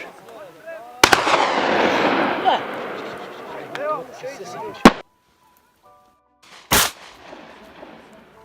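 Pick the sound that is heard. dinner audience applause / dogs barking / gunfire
gunfire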